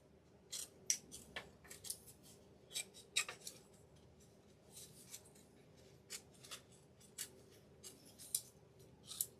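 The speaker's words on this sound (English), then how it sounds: "I'm using my curved scissors because they're easy to get in and out of cracks here." Curved scissors cut a piece of a DIY angel ornament kit in a quick series of crisp, close snips, irregularly spaced and with no talking.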